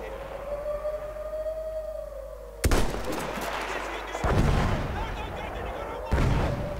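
Heavy gunfire and explosions from Battlefield 1, set in the Gallipoli campaign, with a long rising siren-like whine before loud booming blasts and rumbling bursts of fire.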